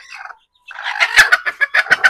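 Native village chickens cluck close by, starting with a short call, then a pause, then a quick run of about eight sharp, rhythmic clucks rising in loudness.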